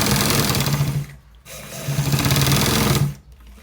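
A sewing machine stitches a designer collar shirt in two loud, fast-running bursts, with a brief pause between them and a cutoff near the end, close and alone.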